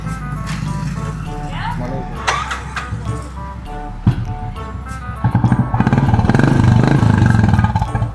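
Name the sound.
old Bullet motorcycle engine started and running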